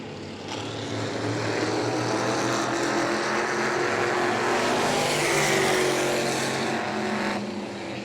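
Modified race cars roar around the New Smyrna track in a 602 Mod race, a loud, sustained engine drone that builds and holds as the pack battles for position, with no talk over it.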